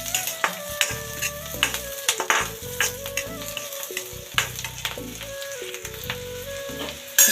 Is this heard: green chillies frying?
yes